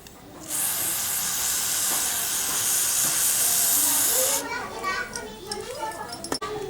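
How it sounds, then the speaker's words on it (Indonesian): A loud, steady hiss of aerosol brake and parts cleaner spraying close up onto a motorcycle drum brake shoe for about four seconds, then stops, followed by children's voices in the background. "kita gunakan brake and part cleaner untuk membersihkan"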